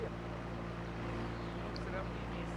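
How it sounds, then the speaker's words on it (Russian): A boat engine in the video game Sniper Ghost Warrior 2 drones steadily with a low, constant motor hum and rumble, a continuous close mechanical noise throughout with no breaks. "Это двигатель."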